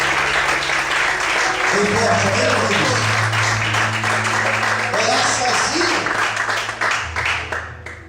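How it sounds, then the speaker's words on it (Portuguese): Church congregation clapping loudly for God during a worship service, a sustained dense wash of applause with low sustained music tones underneath, steady throughout before tapering at the end. "Mais forte, as palmas para Deus"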